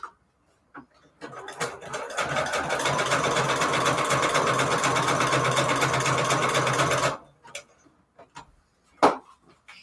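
A sewing machine stitches scrap paper embellishments in one steady, loud whirring run of about six seconds, with scattered clicks and handling noises before and after.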